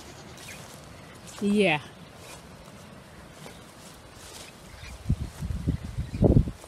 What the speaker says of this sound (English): I'm hearing the parrots.